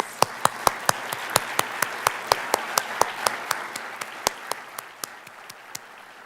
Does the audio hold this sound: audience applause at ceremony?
yes